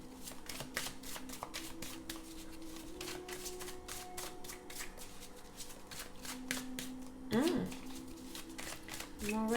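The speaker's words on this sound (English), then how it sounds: "cards are flying out of a deck" A deck of tarot cards being shuffled by hand, a steady run of quick riffling snaps up close, with a voice talking underneath and a brief scrape near the end.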